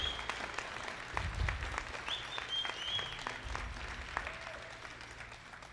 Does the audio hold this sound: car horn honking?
no